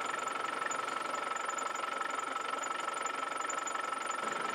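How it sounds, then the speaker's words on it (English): A Land Rover engine idles evenly at a steady, low rumble, with a faint high whine, running on its own without talk while warming up after its cooling system was filled. "let's run the vehicle up so it's nice and warm now"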